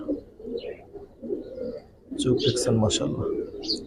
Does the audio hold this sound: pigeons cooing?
yes